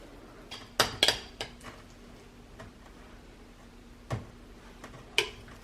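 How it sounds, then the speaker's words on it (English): Pumpkin bread batter being scraped from a bowl into baking pans, heard as a few sharp clinks and taps of utensil against metal and dishes with quiet kitchen pauses between them. "next we're just gonna go ahead and transfer this over to the pans."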